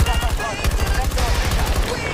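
Gunfire in the video game Battlefield 2042 comes as dense, rapid automatic bursts with heavy low thumps, loud and continuous throughout.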